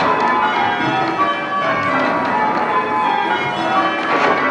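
Church bells at St Peter Mancroft, Norwich ring in overlapping peals, a dense continuous clangour of many bells struck in sequence, loud and close with no voices.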